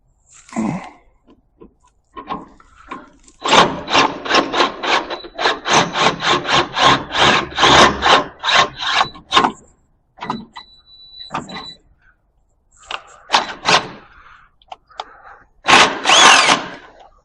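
A power drill whines loudly in a long continuous burst, then stops and starts again in shorter bursts, grinding into metal on a 1962 Chevy C10 close by.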